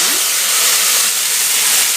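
Onion dropped into hot oil with fennel and cumin seeds for a mushroom kulambu bursts into a loud, close, continuous sizzle with a bright, steamy hiss.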